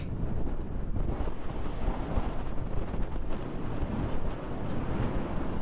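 Strong seaside wind buffets a camera microphone on Bangladesh's coast, producing a loud, continuous low rumble with gusting surges and a faint wash of surf beneath.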